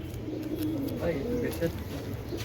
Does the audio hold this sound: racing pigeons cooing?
yes